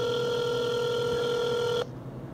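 A telephone rings with a steady electronic tone for nearly two seconds, then cuts off, leaving quiet line hiss.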